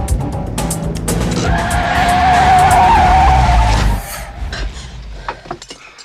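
Tires squeal in a skid during a car chase from the James Bond film GoldenEye involving a red Ferrari, a long loud screech over engine roar that fades into scattered knocks and rattles.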